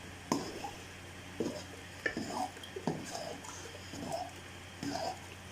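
Haleem being stirred in a cooking pot, a spoon or ladle scraping and clunking against the metal in several separate strokes, moderately close over a low steady hum.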